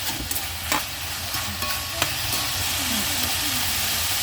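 Meatballs and mixed vegetables stir-fried in a pan with a teaspoon of sugar added, a steady close sizzle with a few brief scraping stirs of a utensil near the start.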